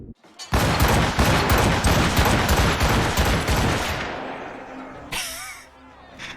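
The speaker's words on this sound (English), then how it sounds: "Chase is firing everywhere." Dense, continuous musket and gunfire volleys rattle loudly in Assassin's Creed Rogue, an overlapping barrage of close shots that thins out near the end before a brief different sound cuts in.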